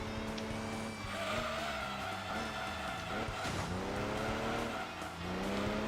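Simulated car braking hard in Gran Turismo 2, engine tone dropping as tires squeal and skid through a corner, continuous and fairly loud with no talk over it.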